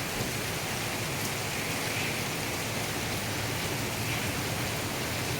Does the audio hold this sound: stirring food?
no